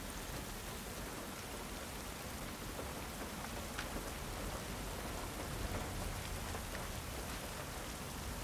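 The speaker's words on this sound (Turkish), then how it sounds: "Yağmur biraz daha gürültüyü bastırıyor ya." Heavy, steady rain pours down in The Last of Us Part II, a dense hiss of drops on surfaces that holds evenly throughout with no voices.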